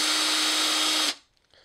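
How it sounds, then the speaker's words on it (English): A power drill fitted with a tiny bit pre-drills holes in a pinball machine cabinet, whirring loudly and steadily for about a second before cutting off, leaving quiet rattles. "Just using a tiny drill bit on a drill to pre-drill these holes"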